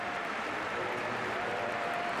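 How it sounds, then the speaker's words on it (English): Thunderous applause fills a football stadium for Lionel Messi of Barcelona during a match against Real Sociedad, a dense, steady roar of clapping and crowd noise sustained throughout without clear speech. "we all know where the thunderous applause are directed"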